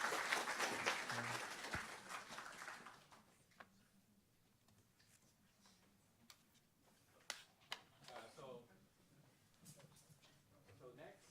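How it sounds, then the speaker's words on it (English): Audience applause at a machine learning summit following a research talk, a burst of clapping that fades within a few seconds, leaving a quiet room with scattered knocks and ticks. "Let's give Manjunas another round of applause."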